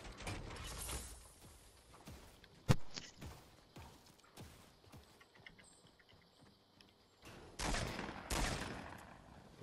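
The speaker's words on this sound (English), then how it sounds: "I'm shooting at somebody." Video game gunfire comes in several bursts of sharp shots, with louder volleys near the start and end and quieter mechanical clicks between them. No one talks.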